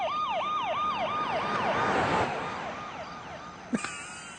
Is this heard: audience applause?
no